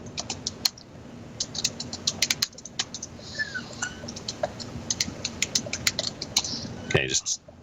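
Clicky keystrokes on a computer keyboard come in quick irregular bursts with short pauses, close and moderately quiet, and one louder clatter near the end. A faint voice sits low underneath.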